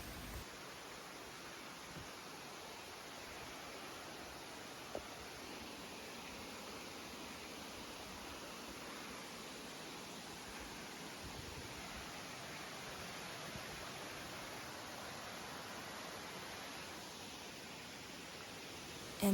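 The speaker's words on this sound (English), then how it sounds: "Before I could even get to the waterfall, I was already met by streams and rivers." Stream and river water flowing near Cascada La Gloria, a massive waterfall, as a steady broad rushing hiss that stays constant throughout with no voices.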